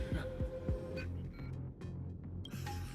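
A slow, throbbing heartbeat sound effect from the Honkai Star Rail video game, a few deep pulses over a low hum, with no voices.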